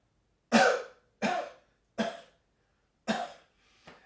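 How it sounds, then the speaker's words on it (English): Four sharp coughs, close and fairly loud, spaced unevenly with short silences between, the last one softer and shorter. "Cough 4 times."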